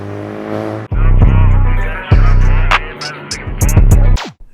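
A 2019 VW Golf GTI with six-speed manual, bolt-ons and a hybrid turbo accelerates hard from close by, the engine revving loudly through rising pulls with sharp drops at each gear change.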